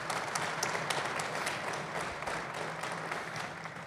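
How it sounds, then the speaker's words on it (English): Applause from the crowd at a groundbreaking ceremony for a student commons and parking garage, with many hands clapping steadily and evenly at moderate distance for several seconds. "Let's give him and our Student Government Association a round of applause"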